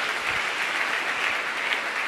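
Church congregation applauding in a steady, dense wash of clapping, fairly close and continuous throughout, with no talk over it.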